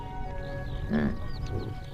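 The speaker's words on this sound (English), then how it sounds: "Yaks don't moo, they grunt." A yak on open pastures near the Great Wall of China gives a single short, low grunting call, close by and brief against faint background noise.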